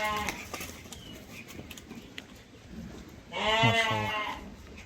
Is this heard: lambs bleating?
yes